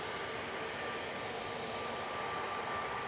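A Jet2 passenger jet bound for Preveza takes off from Manchester Airport, its engines a faint, distant steady roar with a thin whine on top, no talk over it.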